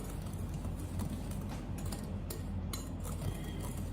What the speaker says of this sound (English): Give it a quick mix.